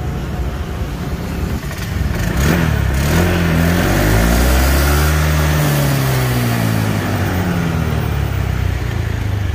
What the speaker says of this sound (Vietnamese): Đó, lổ máy cho anh em nghe nhá.